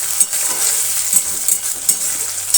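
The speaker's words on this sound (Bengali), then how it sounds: "এখন নাড়াচাড়া দিয়ে দেবো কিছুটা পরিমাণে জিরে গুঁড়ো আর ধনে গুঁড়ো।" Chopped tomato with cumin and coriander powder fries in a pan over a low gas flame while a utensil stirs it, giving a steady sizzle broken by repeated scraping strokes and no voices.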